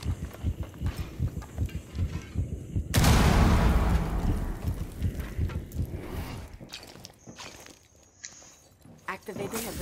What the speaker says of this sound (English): Frag is out.